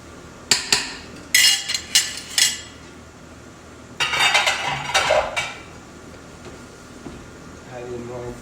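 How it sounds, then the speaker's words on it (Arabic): Molokhia stirred in a cooking pot, with close scraping and knocking of a utensil against the metal pot in two clusters of strokes, over a faint background hum. "نرجع الآن إلى ملوخيتنا ونقلبها"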